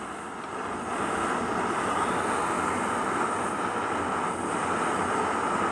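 A canister camping stove burner roars steadily under a TOAKS titanium 900 ml pot as water comes to a boil, a constant loud broadband rush with no voices.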